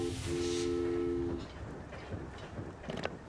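Train in a train automation video game sent off at maximum speed: a steady horn tone sounds briefly at the start over a rumbling roll, followed by clattering rail noise.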